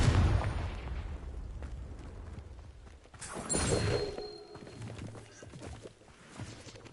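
The Confringo fire spell explodes in Hogwarts Legacy, a bursting blast with a rumbling low swell and a crackling tail, starting after a quieter lead-in and fading over several seconds without any voices.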